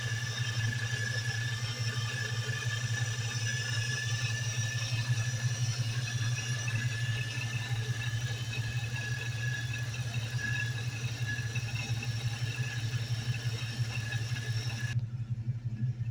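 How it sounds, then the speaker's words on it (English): A supercharged V8 engine in a 2004 Ford Mustang Mach 1 idles steadily with a low, even rumble and a thin, constant supercharger whine riding above it, close by, with no talking. "And that supercharger just has a great sound to her."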